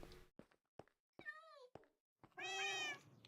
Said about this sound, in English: Who's meowing back there?